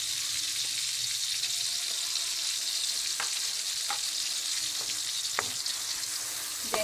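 Onions frying in a pan for a Filipino eggplant adobo, a continuous close sizzle broken by scattered sharp spatula scrapes and taps, with no voices.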